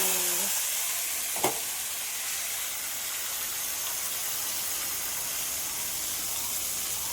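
Mutton sizzles and fries in a wok (kadai) with a steady, loud, hissing crackle throughout. One brief clank of a utensil sounds early on, with no talking.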